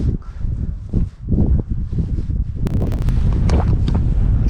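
Strong wind gusting outdoors at a disused airfield on a cold day, roaring and buffeting the microphone loudly and continuously, growing steadier and harsher in the second half.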